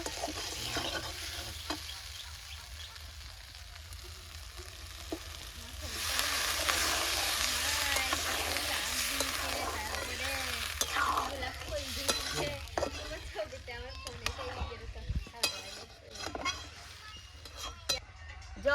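Mutton masala frying in a pot sizzles and gets stirred with scraping strokes; water is then poured in, raising a louder, broader hiss and bubbling before the sound settles into intermittent stirring clatter, fairly close.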